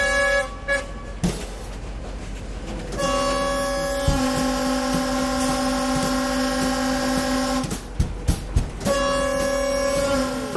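A train on Albanian railway tracks sounds long tonal horn toots over a rolling mechanical rumble, with sharp clanks and knocks from the wheels and cars as it passes close by.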